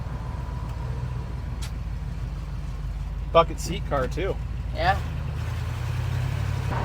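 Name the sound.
barn find Chevelle engine running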